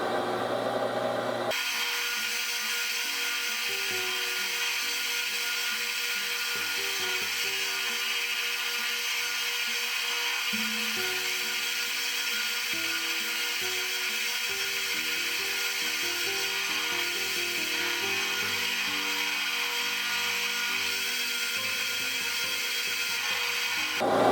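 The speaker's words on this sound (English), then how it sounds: "I'm cleaning off the shank with a wire brush." A wire brush scours rust off a metal shank with a steady, continuous, close-up scratching whir and a faint motor-like hum. It runs unbroken for the whole stretch, with no talking.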